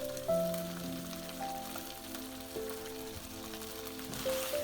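Pork ribs sizzle in a sweetened fermented rice sauce, a faint, steady bubbling crackle under a low background hum.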